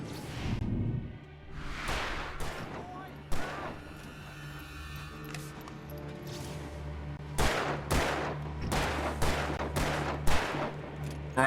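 Gunshots in Alan Wake Remastered ring out as a string of sharp, loud cracks, some in quick pairs, spread across a tense ambient backdrop with a low droning hum.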